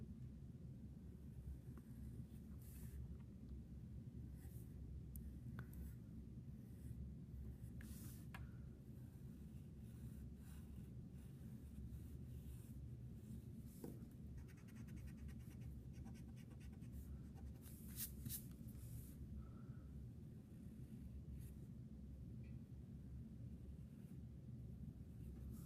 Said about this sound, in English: I'm going to start out here by drawing in a circle